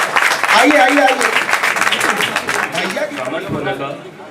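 An audience at a kavita sammelan open mic claps loudly to welcome a poet to the stage. The applause is dense at first and thins out, with a voice speaking over it.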